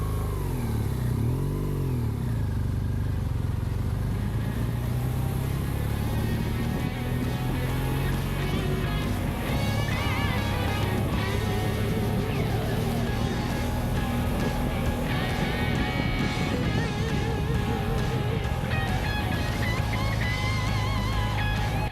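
A motorcycle touring through the Czech Republic in the rain, its engine running steadily and loudly with rising and falling revs as it rides along, heavy wind roar throughout and faint speech at times.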